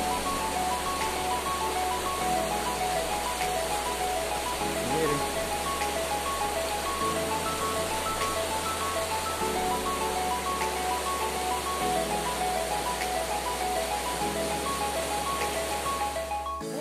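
Rushing water of the Pita river waterfall near Sangolquí, Ecuador, a loud, steady broadband roar that continues unbroken throughout, with a faint low hum beneath it.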